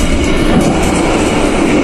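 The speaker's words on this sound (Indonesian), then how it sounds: "tidak lama lagi kereta api Rangka Jati akan tiba dan berhenti di stasiun Surabaya Gubeng" A Ranggajati passenger train pulls into Surabaya Gubeng station in Indonesia, its wagons giving a loud, steady, close rolling rumble with no voices.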